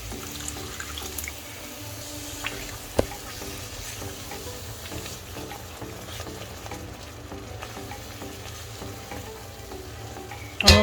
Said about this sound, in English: we're going to let it simmer for 2 minutes covered up